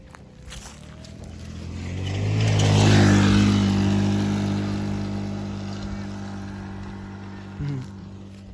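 A motorcycle passes by, its engine swelling from a distant hum to a loud, close roar at the midpoint, then fading away, with a brief bump near the end.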